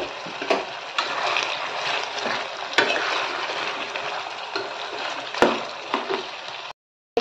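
Ground spice paste being stirred into a pumpkin curry in a hot pan: a close, continuous sizzle broken by scraping spoon strokes and occasional sharp knocks, ending in a brief silence.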